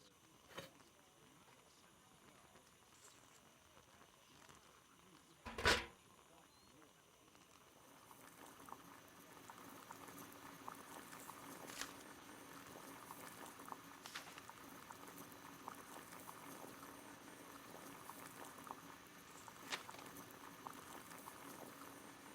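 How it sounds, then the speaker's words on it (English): A kettle of water boiling on a gas burner in Sherlock Holmes: The Devil's Daughter, a faint bubbling roil that builds after a sharp click and then holds steady, with occasional soft taps. "Boil water in kettle."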